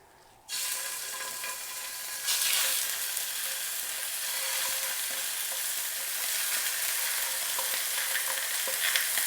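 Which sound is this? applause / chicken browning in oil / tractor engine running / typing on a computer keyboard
chicken browning in oil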